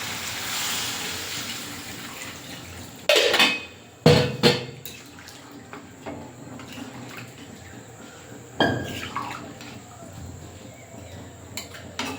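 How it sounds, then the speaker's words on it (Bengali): Water poured into a pot of meat cooking over a coal fire in a village kitchen: a steady splashing pour at first, then a few sharp clanks and drips as the pot settles. "মাংস এবারে জল দিয়ে দিই"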